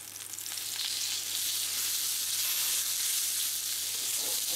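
Rump steak sizzles steadily in a hot pan, a close, continuous hiss of frying fat with no voices.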